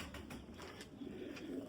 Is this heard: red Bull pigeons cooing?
yes